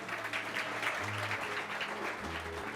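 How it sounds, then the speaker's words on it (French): A conference audience in a hall claps steadily, a dense patter of many hands at moderate volume, continuing through the whole moment. "Vous pouvez l'applaudir déjà."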